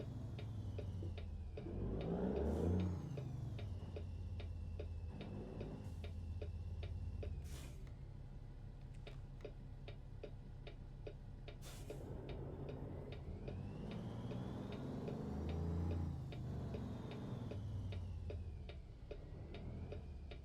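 Steady, regular ticking of truck hazard lights in American Truck Simulator, repeating evenly over a low engine rumble that swells and fades at times while backing in.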